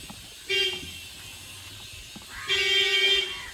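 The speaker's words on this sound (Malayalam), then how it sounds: "ഒരു മീൻ വണ്ടിയുടെ ഹോൺ" A fish vendor's van horn sounds twice, a short honk followed by a longer one after a pause, over quiet background noise.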